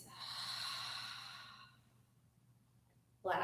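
A long, audible exhale through the nose and mouth during a power yoga breathing round, a soft rushing breath that fades to near silence before a sharp intake at the end.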